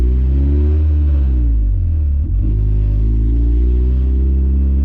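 Honda Civic del Sol fitted with a Tanabe Medalion exhaust, revving up and down in a deep, steady rumble close by with a brief dip midway, no voices.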